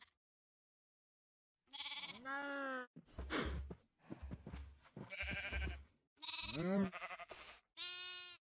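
Sheep bleat repeatedly in the Minecraft video game, with several distinct, wavering calls in close succession and nearby farm animals sharing a small pen.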